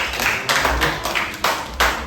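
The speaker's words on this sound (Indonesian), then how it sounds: "Oke, tepuk tangan." A classroom group clapping hands in several quick bursts, fairly loud in a room, with no speech over it.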